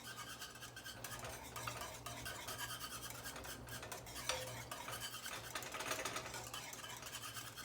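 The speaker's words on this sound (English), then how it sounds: "Stir this up." A spoon stirs homemade BBQ sauce in a pot, giving a steady scraping, rubbing swirl against the pot with a low hum in the background and no talking.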